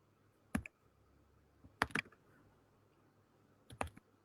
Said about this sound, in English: She's frozen, but she's typing.